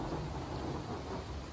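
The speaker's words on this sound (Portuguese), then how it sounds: "Vou baixar a chuva." Rain falls steadily with a deep rumble of thunder beneath it: a dense, constant wash of sound throughout the short stretch, with no voices.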